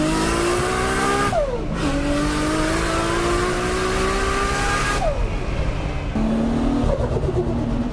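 Modified car with an RB28 stroker engine, accelerating hard through several gears; loud rising revs with sharp drops at each shift, alone and without talk.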